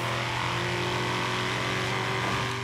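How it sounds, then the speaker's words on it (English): A Ford Mustang engine in the video game Forza Horizon 3 drones loudly and continuously with a dense, steady exhaust rumble. "I'm pretty sure Ford patented the sound for the Mustang."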